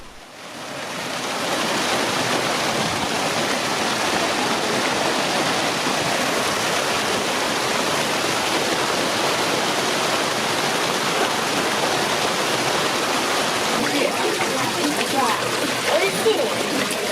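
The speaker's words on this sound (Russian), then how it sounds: "это талая вода, стекающая с Фудзиямы и других гор." Meltwater from Mount Fuji and nearby mountains rushes in a loud, continuous broadband roar that fades in quickly and then stays steady throughout.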